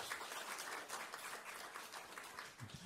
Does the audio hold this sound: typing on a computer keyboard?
no